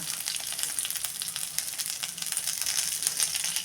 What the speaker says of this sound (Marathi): मिरची परतत असताना त्यामध्ये ते एक चमचा जिरे टाकूया